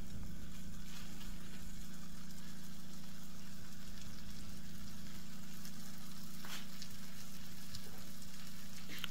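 A cheddar and grated gruyère sandwich toasts in a pan, sizzling steadily and evenly throughout with a constant low hum underneath and no talking.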